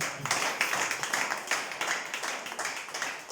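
Audience at a church gathering clapping for Jesus, a steady rhythmic clapping by many hands, fairly loud and close, continuing throughout with no talking over it.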